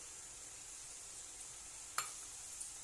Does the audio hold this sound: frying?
yes